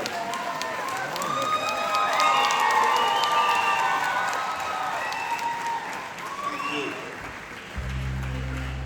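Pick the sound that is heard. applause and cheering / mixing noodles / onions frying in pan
applause and cheering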